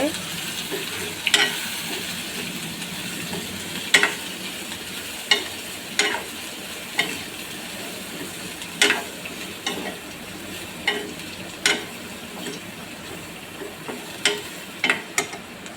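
Chickpea gravy base with salt sautéing in a pan, a continuous sizzle punctuated by regular sharp spoon strikes against the pan every second or two.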